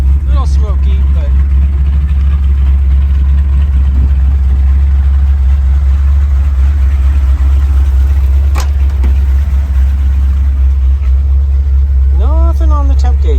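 A 1979 Ford Bronco engine idles steadily with a loud, constant low rumble throughout, a little smoky while warming up, with brief talk near the start and end.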